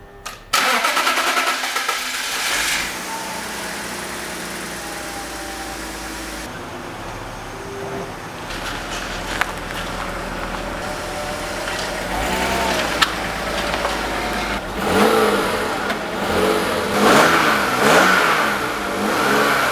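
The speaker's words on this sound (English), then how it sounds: "I think we're ready to start the engine" A BMW 528i that had sat unused for a year and a half cranks, catches and revs up loudly, the engine surging several times before settling into a steady idle.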